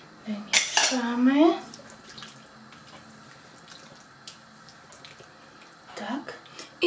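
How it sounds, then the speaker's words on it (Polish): A spoon stirs a sauce of chicken gizzards, mustard and pickle brine in a metal pot. There are sharp clinks and scraping at the start and again near the end, with quiet kitchen sounds between. "Wymieszamy."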